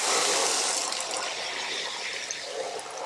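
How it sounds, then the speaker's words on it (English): Water rushes through a gutter strainer clogged with debris, a dense, steady hissing flow that is loudest at the start and eases slightly while staying continuous. "It always keeps the water flowing, no matter what you do."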